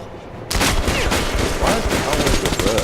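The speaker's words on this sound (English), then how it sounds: "Yeah, he's shooting at me" Enemy gunfire in Metro Last Light Redux erupts abruptly after a quiet moment, then continues as loud, rapid shots with booming echoes and clatter.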